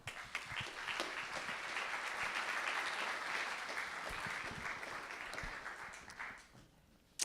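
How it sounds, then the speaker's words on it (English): Audience applause for two speakers at a talk on affordable city building, a dense steady round of clapping from a room crowd that fades out near the end. "Let's get another big round of applause for Daniel and Kim"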